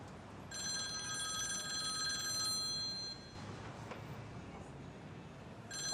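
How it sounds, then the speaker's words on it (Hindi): A telephone rings with a bright, trilling electronic tone, then stops, leaving quiet room noise before the ring briefly starts again at the end. "किसका फोन है?"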